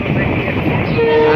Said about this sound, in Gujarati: નવાગઢની અંદર ટ્રેન એન્ટર થઈ છે.